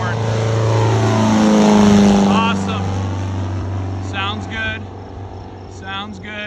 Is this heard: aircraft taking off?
yes